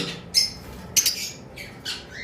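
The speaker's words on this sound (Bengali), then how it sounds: "এবার আসি অ্যালবিনো আমাদের কাছে মাত্র দুইটা পেয়ার রয়েছে অ্যালবিনো পাখি রেড আই" Albino red-eye lovebird giving short, sharp squawks, about three separate bursts with quiet gaps between them, fairly close.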